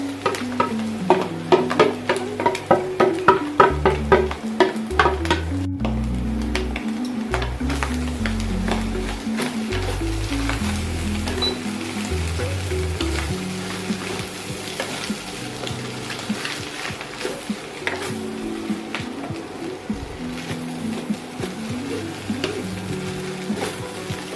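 Rice frying in a pan for fried rice, with continuous sizzling and a metal spatula scraping and tapping in quick irregular strokes, loud and close, without voices.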